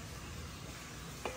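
Spices are tempered in hot oil for a tadka, giving a faint, steady sizzle with one brief sharp clink near the end.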